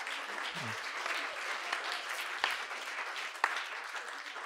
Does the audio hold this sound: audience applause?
yes